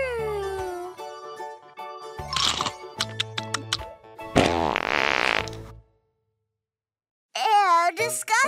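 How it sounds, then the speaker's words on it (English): A cartoon-style fart sound in a children's animated scene, with a burst of sputtering noise around the middle amid music and clattering effects, followed by a pause and a voice. "You farted"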